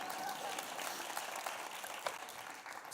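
An audience applauds at a live talk event, a soft, steady patter of many hands heard from a distance, fairly faint and sustained throughout.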